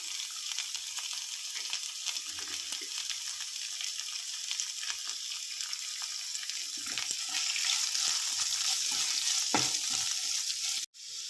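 Chopped onion sautéing with ginger and garlic in a pan for a puri and chapati masala, a continuous bright sizzle that swells louder partway through, with occasional soft stirring clinks and no speech.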